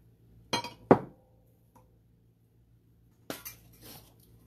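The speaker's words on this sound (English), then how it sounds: "gonna put my vinegar paint away" Containers of vinegar paint are set down and put away in a preschool painting class, giving a few sharp clinks and knocks, two close together early and another pair a few seconds later, with quiet between.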